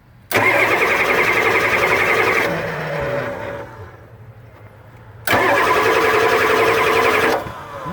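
A Ford F350 with an IDI diesel engine cranks twice, each a loud rapid starter churn lasting about two seconds with a quieter idle-like rumble between them, no voices.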